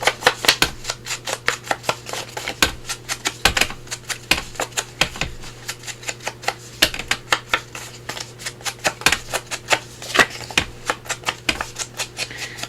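Paper corners being rounded with a corner punch, a fast series of sharp, close clicks and snaps repeating in an uneven rhythm with no talk over them.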